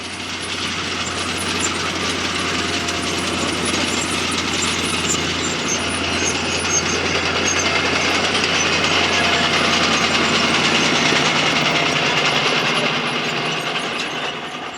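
The six-cylinder diesel engine of an International TD-8 crawler tractor, rolling a sugar beet field, drones loudly and steadily, with a deep, constant rumble and mechanical clatter that barely changes from start to finish.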